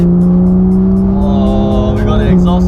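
Porsche 911 GT3 engine revving hard with its exhaust flaps open, a loud, steady, close engine note that climbs and then dips briefly.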